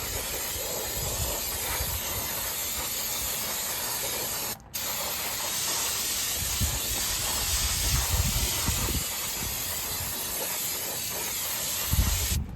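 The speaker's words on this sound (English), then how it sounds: "I always grab just a can of brake cleaner, and I go ahead and I clean all the brake dust out of here" Aerosol brake cleaner spraying brake dust off the brakes of a 2002 Toyota Tacoma, a loud, steady, close hiss lasting nearly the whole stretch with one brief break partway through.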